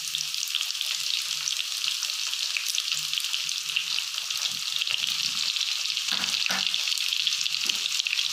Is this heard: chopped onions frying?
yes